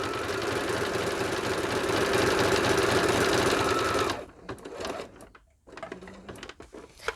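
A sewing machine stitches a fabric splatter guard in a loud, fast, steady whir for about four seconds, then stops, leaving faint handling noises and short bursts.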